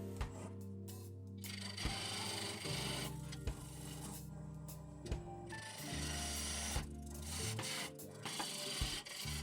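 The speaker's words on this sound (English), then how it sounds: "I'm just going to remove this glue. I'm using my 3/8 inch spindle gouge at 500 RPM." A 3/8 inch spindle gouge cuts glue off a wooden workpiece spinning on a lathe at 500 RPM, giving a steady scraping hiss over a low motor hum with brief breaks where the tool lifts.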